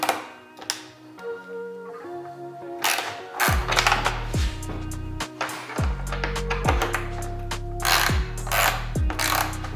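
A ratchet clicks off Torx screws on the tail section of a 2024 BMW S1000RR, giving repeated runs of rapid ratcheting with short metallic pauses between turns.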